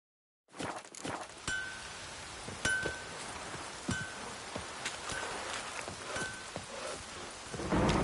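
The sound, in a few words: rain and thunder in the video game The Witcher 3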